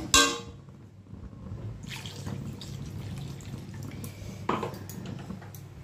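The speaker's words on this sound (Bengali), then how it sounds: "এবারে জল দিয়ে দেবো, আন্দাজ অনুযায়ী জল।" Water poured from a vessel into a pan of pointed gourd curry: a sharp clatter at the start, then a soft steady trickle and splash, with a brief clink of utensils midway. No one speaks.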